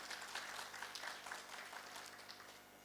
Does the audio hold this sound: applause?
yes